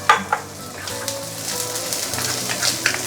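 Vegetables drop into golden-brown frying shallots in a non-stick pan before beehoon noodles go in, giving a steady crackling sizzle with light stirring clicks and no talking.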